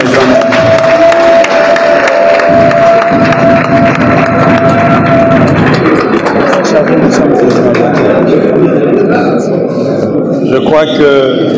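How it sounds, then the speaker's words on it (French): Large audience applauding and cheering for the president at a public gathering, a loud dense crowd roar of clapping sustained throughout, with voices mixed in. "Je voudrais vous demander si on peut vraiment applaudir comme il se doit pour le président"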